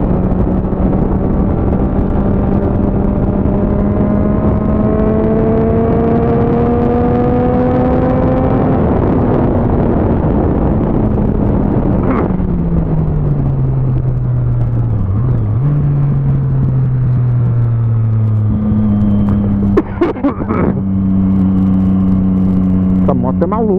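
A motorcycle engine drones and revs in city traffic, its tone steadily climbing and then dropping back, with a few sharper bursts near the end and some voices in the background.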